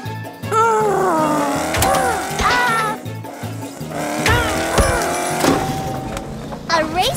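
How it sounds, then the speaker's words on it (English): Cartoon race car sound effects zipping fast through a jungle, with engine whines and squealing sweeps rising and falling over a busy, loud mix of music and effects. "A race car isn't so fast in the jungle"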